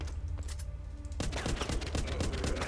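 Rapid gunfire at zombies in The Walking Zombie 2 video game, a dense burst of shots that starts after a quiet stretch and keeps up to the end, loud and close.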